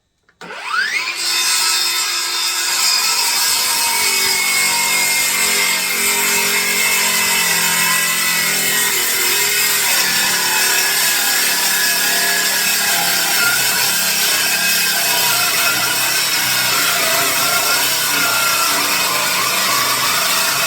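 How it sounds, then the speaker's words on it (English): A skill saw bites into pallet wood with a loud, sustained whining cut that starts abruptly and holds steady for about twenty seconds, close and alone. "I've got to make sure that the clamps aren't in the way of the skill saw."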